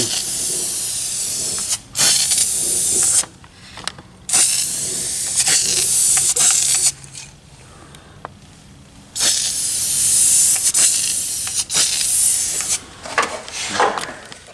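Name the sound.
aerosol spray can spraying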